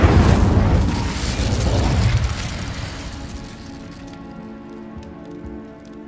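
The Incendio fire spell goes off in the video game Hogwarts Legacy. A loud whooshing, crackling burst of flame fades into a softer hiss and a lingering ambient hum.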